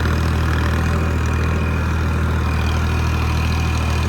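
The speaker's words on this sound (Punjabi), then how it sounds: "ਚੜ ਗਿਆ ਟਰੈਕਟਰ ਮਕੇਰੀਆਂ ਰੋਡ ਤੇ" A tractor engine idles steadily and loudly with a deep low-pitched rumble and constant drone throughout, no voices heard.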